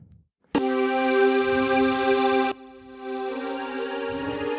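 Low-quality synth pad sample in duplicated blocks, a bright sustained chord starting abruptly, then dropping to a quieter continuing layer, with faint muffled background noise.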